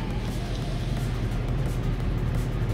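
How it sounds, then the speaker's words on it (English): Electric fans run in a hot garage during battery work on a 2014 Range Rover Sport, giving a steady low whirring drone that stays even throughout, with no speech. "I gotta apologize for the noise because we have the fans on,"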